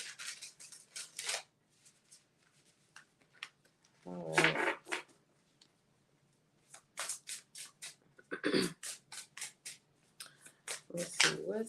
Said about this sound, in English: I'm shuffling real good for y'all, ain't it?